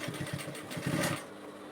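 A sewing machine runs a seam around a reversible bonnet cap, giving a close, rapid, rhythmic mechanical whir that pulses steadily before easing off.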